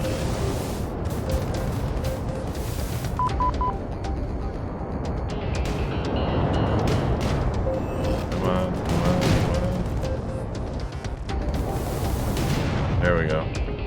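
Enemy missile fire and explosions in the Star Vortex space shooter game, a dense continuous barrage of blasts, booms and electronic effects, with someone talking over the action.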